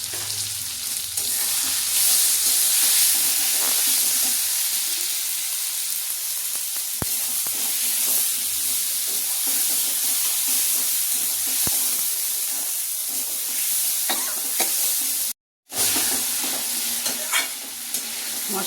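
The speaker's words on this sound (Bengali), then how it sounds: "মশলাটা কষানো হয়ে গেছে" Spices with cumin powder, chili powder and salt sizzle steadily in a pan while being stirred, a continuous close hiss with scraping strokes and one brief dropout near the end.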